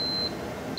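Furuno ECDIS navigation workstation alarm giving a short, steady electronic beep at a single high pitch, cutting off and then starting again at the end, heard alone and close.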